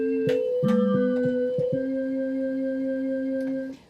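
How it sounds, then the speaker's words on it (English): A keytar synthesizer with a drawbar organ tone plays a few sustained chords, shifting notes early, then holding a steady chord before fading out. "you come up with your sounds exactly like you would on a drawbar organ"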